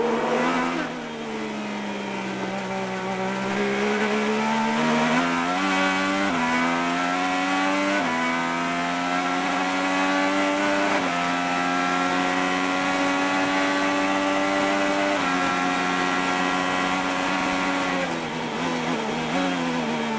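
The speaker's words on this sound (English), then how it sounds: "You can hear him go from full throttle straight to the brakes" An IndyCar race car at the 2013 São Paulo Indy 300 street race screams at full throttle, its loud engine note climbing and dipping through gears before dropping off under braking, sustained for about twenty seconds.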